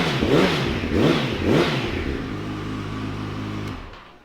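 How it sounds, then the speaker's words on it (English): A 2013 Yamaha FZ1S Fazer with a four-cylinder engine fires up and revs, rising three times in quick, loud blips before settling into an even idle close by. "Cracking 4-cylinder sound there from Yamaha"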